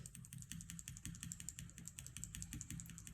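Typing on a keyboard with Gateron Red linear mechanical switches, a quick run of soft, evenly spaced keystroke clacks bottoming out, close but quiet, with no talking.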